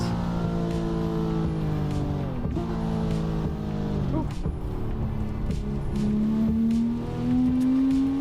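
A Porsche engine revs and drives in a racing video game, its tone climbing and dropping through gear shifts with tire squeal, heard as steady game audio at moderate loudness.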